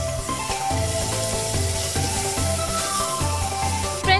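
Chopped tomatoes sizzle steadily in a pan while a dal is cooked, with a continuous frying hiss under a loud rhythmic music bed throughout.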